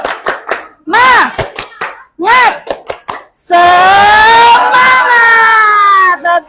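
A school class doing a rhythmic clapping cheer, with crisp hand claps in a patterned beat mixed with children chanting together in a sing-song, then a long sustained group shout, close and loud.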